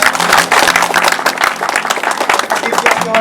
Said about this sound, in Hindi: एक बार फिर 2000 तालियां